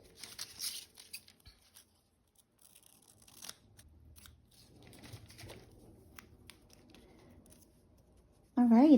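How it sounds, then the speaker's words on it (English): Small scissors snip a paper sentiment out for a handmade journal card: a quick run of close, crisp cuts at the start, then faint paper handling, ending with a sudden louder rustle. "So I'm going to go ahead and cut this one out."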